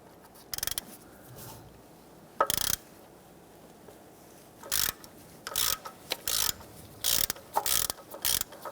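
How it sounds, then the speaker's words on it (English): A ratchet turns a 27mm socket to loosen the oil pressure switch on a 1992–1996 Toyota Camry, giving short bursts of loud, close, rapid clicking separated by pauses, with no voices. "Using a 27mm socket, you want to go ahead and loosen and remove this here."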